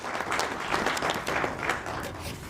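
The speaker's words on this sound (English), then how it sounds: "Please, can you give that exceptional clap?" Steady applause from a graduation ceremony crowd, a dense even patter of many hands clapping throughout with no talk over it.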